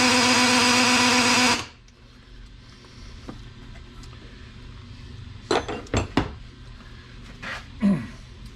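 A drill whirs steadily for about a second and a half while spinning the oil pump shaft on an engine short block, then cuts off and leaves a few scattered metallic clinks and taps.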